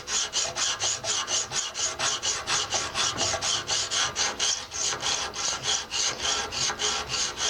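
Pocket knife drawn over a Smith's sharpener in steady, even strokes, a close, harsh rasping scrape that repeats about three times per second without pause.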